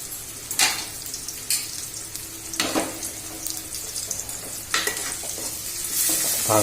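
Leftover roti upma stirred in a pan with turmeric, salt and chili powder, a steady frying sizzle broken by several scraping spoon strokes against the pan, close and alone without talk.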